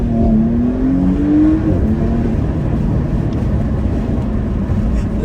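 A 2020 Porsche Panamera 4 E-Hybrid in Sports Plus mode gives a loud, close engine burble, with a rising rev tone in the first second or so and then a steady rumbling drone.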